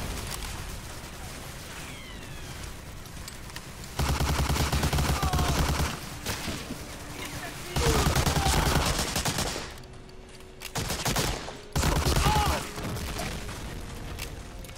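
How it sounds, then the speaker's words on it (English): MG42 machine guns rattle in bursts during a World War II shooter firefight in Medal of Honor: Allied Assault, loud rapid fire alternating with quieter gaps, mixed with scattered gunshots and distant booms. "they will still respawn and start shooting you with MG42s"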